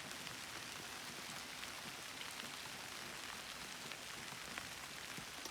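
Rain falls steadily on a trimmed peony garden at a flower farm, a soft continuous patter of drops on leaves and ground, fairly faint and even throughout, with no one talking.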